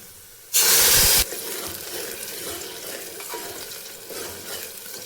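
Mutton biryani mixture with fried onions being stirred in a hot pot, then water poured in: a loud burst of hissing splash for about a second, settling into steady sizzling and bubbling.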